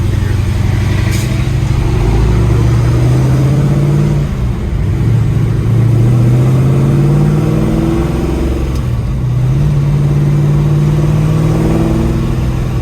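A 1963 Ford Galaxie XL 500 engine under way, a steady loud drone that climbs in pitch and drops back a few times as it pulls through gears, with faint voices low in the mix.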